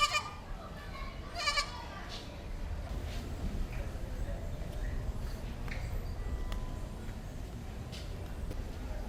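Goats in a village in Ghana bleat a few times near the start. Steady outdoor background noise continues after the bleats.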